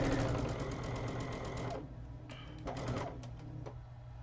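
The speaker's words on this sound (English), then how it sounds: "I hope that it is not picking up the sewing machine" A domestic sewing machine stitches a queen-size quilt, its fast steady mechanical chatter loud and continuous for almost two seconds, then stopping and starting in short irregular bursts.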